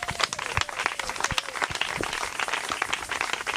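A church congregation claps and cheers in worship, loud scattered handclaps rattling continuously over a murmur of voices, with a faint sung or spoken line drifting underneath.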